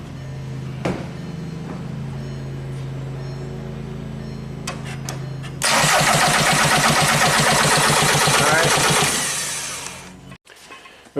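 A Volkswagen Jetta TDI diesel cranks over without catching, the starter rhythmically churning for several seconds at close range after a quieter stretch with a steady hum, then cutting off abruptly.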